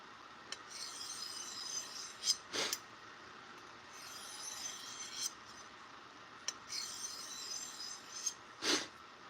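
A knife blade drawn by hand across DMT diamond and ceramic sharpening stones, quiet repeated rasping strokes with a few sharper scrapes at irregular intervals, no speech.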